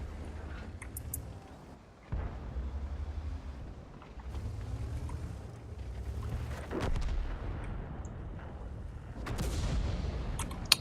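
Artillery shells strike a tank in World of Tanks, heavy booming impacts landing at intervals over a low rumbling engine drone, loud and close.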